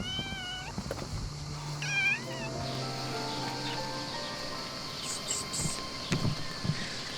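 A kitten stuck up in a car engine meows a few times, high and thin, with gaps in between, over a steady background hum and some rustling.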